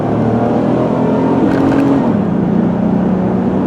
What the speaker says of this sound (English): I'll step on the gas a little harder this time, accelerate a little quicker